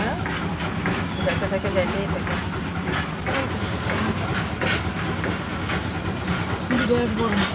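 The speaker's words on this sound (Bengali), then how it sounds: "এই ক্রসিংয়ে দাঁড়িয়ে আছি আর এই মালগাড়ি শেষ হতে সহজে আর শেষ হয় না" A long freight train rolls past a level crossing with a steady, continuous rumble and rhythmic wheel clatter, close and unbroken, while a person talks over it.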